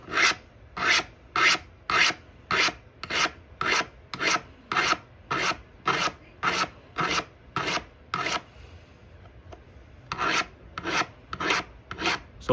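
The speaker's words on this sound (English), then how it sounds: "Try to use the entire file like Okay. this. Okay, so now I'm gonna start sharpening with this pressure now." Floral snips being sharpened with a hand file: close, even rasping strokes in a steady rhythm, about a dozen and a half, with a brief pause before several more strokes follow.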